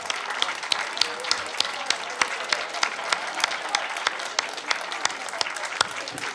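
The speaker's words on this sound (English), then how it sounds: "One more round of applause for all our amazing authors today." Audience at a book panel applauding its authors, a steady patter of many hands clapping at moderate distance, even and sustained without talk over it.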